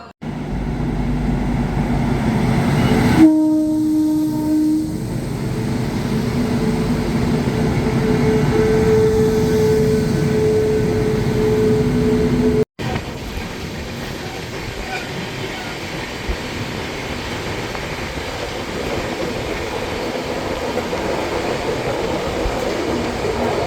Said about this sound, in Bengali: আমাদের ট্রেন প্রবেশ করছে রাজামন্দ্রিতে